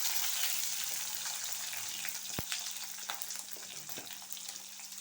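Urad dal, cumin and green chilies frying in hot oil in a pan, a steady, even hiss of sizzling with a single sharp clink partway through, fairly close but faint.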